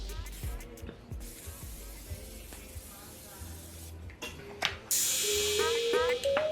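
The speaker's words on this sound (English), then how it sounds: "Now I'm going to take my Morphe continuous spray." Morphe continuous setting spray mists out in a steady, close hiss near the end, lasting about two seconds over low room noise.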